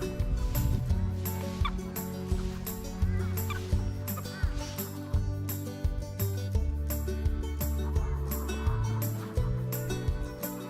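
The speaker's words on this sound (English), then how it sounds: "the chickens are being fed." A flock of chickens being fed at a free-range farm in Uddeholm, Sweden, clucks and squawks loudly and continuously close by, in a dense chorus of overlapping calls.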